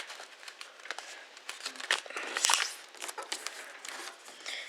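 A square of paper is folded for an origami finger trapper, producing close, crisp crinkles and soft creasing rustles in quick, irregular bursts.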